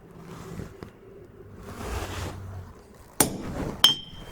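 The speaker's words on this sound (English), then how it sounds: "And let's put a center punch" Hammer striking a center punch on a forged steel cabinet handle, two sharp metallic taps a short moment apart after some quiet shuffling.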